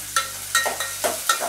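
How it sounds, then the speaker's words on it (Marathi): Sliced onions frying in hot oil for a chicken curry, heard as short clinking scrapes of a spatula against the pan in quick bursts over a soft sizzle. "आता कांदा चांगला भाजून घ्यायचा आहे"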